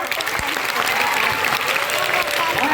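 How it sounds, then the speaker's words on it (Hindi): Steady, loud applause from a crowd at a theatre therapy workshop, continuous clapping filling the whole stretch with a faint voice underneath. "एक बार जोर से ताली बजाइए।"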